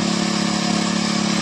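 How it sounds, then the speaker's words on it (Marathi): A tractor engine works a rice paddy on a farm, a steady loud mechanical drone with a firm low hum that holds constant and close, without speech. "आमचे आदित्य भाऊशीच ट्रॅक्टर चालवत आहेत बघा"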